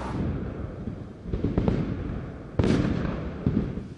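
A series of booming explosive blasts, two or three loud bursts with rumbling tails, echoing outdoors at a distance.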